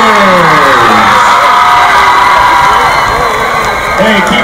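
A loud, close crowd cheers and whoops for high school cheerleaders at a football game, a sustained roar of shouting voices with scattered applause and no letup.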